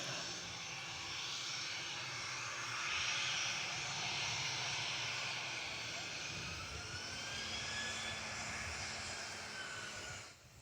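A Southwest airliner lands at Nashville International Airport, its jet engine roar steady and fairly distant for about ten seconds, swelling slightly mid-way and with a rising whine, then cutting off abruptly at the end.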